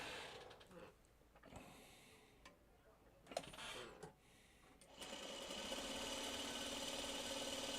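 A sewing machine stitches quilt block seams a quarter inch from the marked line, starting and stopping in short bursts, then settling into a steady close whir.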